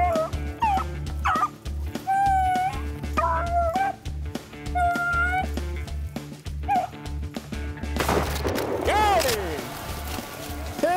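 Hunting dogs bark and yelp in short, scattered bursts while chasing a rabbit through the field, some barks moderately distant, with people talking nearby.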